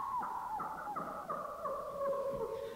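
An animal's SL trill call, heard as a series of repeated descending warbling notes in a steady trilling rhythm, moderately faint over background hiss.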